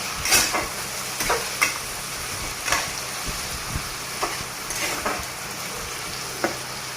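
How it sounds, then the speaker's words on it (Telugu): Vermicelli biryani ingredients with turmeric sizzle steadily in a hot pan over high heat, with a spoon scraping and stirring in irregular strokes close by. "కొంచెం పసుపు వేసి ఇప్పుడు హైలో పెట్టి బాగా కలబెడదాం."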